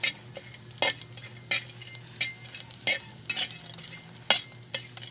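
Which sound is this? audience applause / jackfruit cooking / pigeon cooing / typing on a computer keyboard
jackfruit cooking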